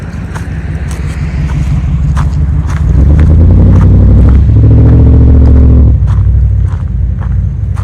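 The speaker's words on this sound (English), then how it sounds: "So there's cars coming down there." Cars pass along an active road by a canyon where people fish nearby, one swelling loud and close in a rumbling pass before fading, with faint wind over the microphone.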